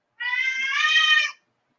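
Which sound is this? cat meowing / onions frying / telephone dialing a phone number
cat meowing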